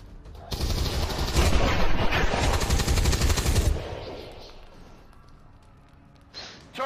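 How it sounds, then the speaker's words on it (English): Rapid automatic gunfire from a squad firing on an enemy in the XCOM 2 video game, a loud dense burst of shots lasting several seconds before dropping away to a quieter background with a brief sound near the end. "Moving here and shoot that asshole."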